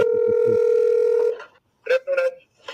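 A steady telephone dial tone hums at the start of a call to a tow company, then fades, followed by short bursts of dialing or connection tones.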